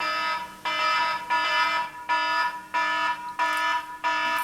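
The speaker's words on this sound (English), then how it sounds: "that's the getting bogged down in the science alarm" A comedic electronic alarm effect blares in six loud, evenly spaced pulses, each a steady harmonic buzzing tone with short gaps between, with no voices.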